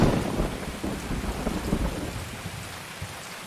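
Loud, steady rain pours throughout in the shooter Escape from Tarkov, with deep rolling thunder rumbling underneath, close and dense from start to finish with no voices.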